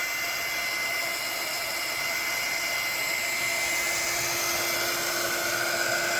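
A heat gun runs steadily and loudly while shrinking tubing over a wire joint and melting solder, a constant close whooshing blower roar with a faint high whine and no pauses.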